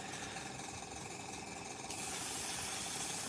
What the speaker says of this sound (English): spray a black or just various shades of dark greys to blacks on the top of this